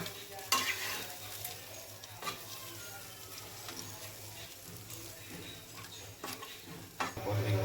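Spice mixture for shukto being stirred with water in a pan, a faint wet sizzle under scattered scraping and clinking strokes of a utensil, with a few sharper knocks spaced irregularly.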